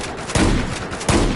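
Gunfire in Battlefield 4 rolls as a dense, continuous rumble with two heavier thumping shots standing out, loud and close over constant background battle noise; no talking.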